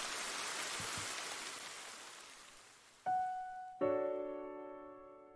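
Rain falling in an empty park in a horror novel game, a steady hiss of rainfall that fades gradually, then two bright chime-like tones ring out near the end, with no speech.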